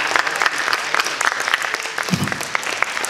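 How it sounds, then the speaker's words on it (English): An indoor audience at a physics science show claps for Rebecca, a lively burst of individual hand claps close by with a brief murmur of voices partway through. "Let's give a big round of applause for Rebecca."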